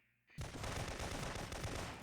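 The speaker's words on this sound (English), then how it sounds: "taking gunfire from across the courtyard" Rapid bursts of automatic gunfire from the PS1 video game Syphon Filter 2 start abruptly after a quiet moment, then continue as a dense, loud, continuous barrage.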